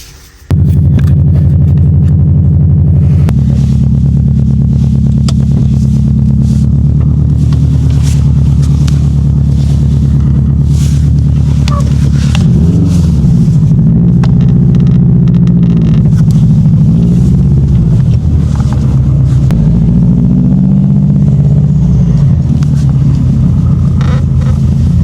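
Subaru Impreza with a 5-speed gearbox drives on a test run, its engine a loud steady low drone heard from inside, with revs rising and falling as it shifts and no talk.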